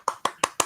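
Four sharp hand claps in quick, even succession, close and loud, with nothing else heard.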